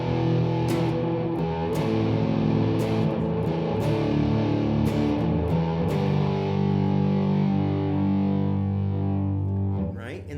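Heavy distorted electric guitar chords voiced with the fifth in the bass ring out thick and sustained, restruck several times with brief choppy attacks, loud and close, with no voice over them.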